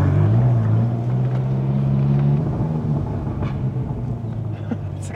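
A Ferrari California with a DCT transmission pulls away, its engine a loud, close low rumble that rises briefly in pitch and then settles into a steady drone.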